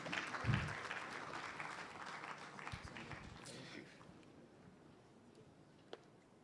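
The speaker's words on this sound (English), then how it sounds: "A round of applause for him." Audience at an official report launch by the Ghana Statistical Service applauds a speaker, a soft spread of clapping that swells briefly then fades away, with faint voices underneath.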